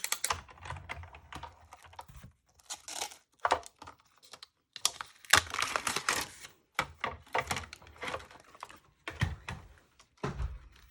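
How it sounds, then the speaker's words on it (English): A die cut machine cuts paper poinsettia petals with quiet, irregular clicks, thunks and rustles spread across several seconds, close by and low in level. "run that through my die cut machine."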